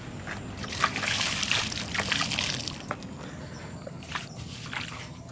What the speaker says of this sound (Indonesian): Kita siram pakai air tadi